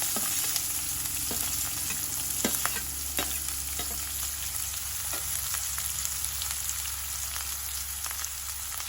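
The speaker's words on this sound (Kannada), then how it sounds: "ಹಾಗೆ ಒಂದು 4 ರಿಂದ 5 ಕರಿಬೇವಿನ ಎಲೆಗಳನ್ನು ಸೇರಿಸ್ಕೊಂಡು ಚೆನ್ನಾಗಿ ಫ್ರೈ ಮಾಡ್ಕೊಳ್ಬೇಕು ಈರುಳ್ಳಿಯನ್ನು" Chopped onion, green chili and curry leaves fry in hot oil for a tempering, giving a steady, close sizzle with light stirring clicks and scrapes throughout and no talk.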